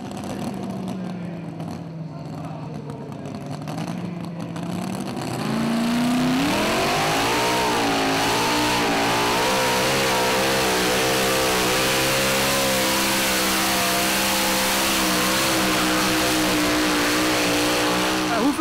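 Unblown pulling tractor engine of roughly 900 hp at a tractor pulling event, idling with a low rumble and then revving up into a loud sustained roar with wavering pitch.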